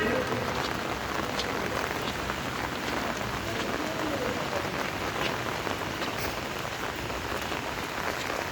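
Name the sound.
rain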